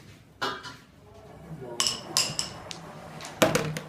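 Sharp wooden clacks of a carrom striker hitting pieces during a carrom club match in Abbottabad, a few separate impacts spaced over several seconds, with a commentator's voice underneath.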